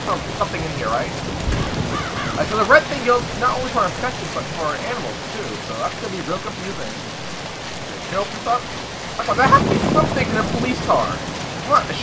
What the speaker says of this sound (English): Oh, lightning.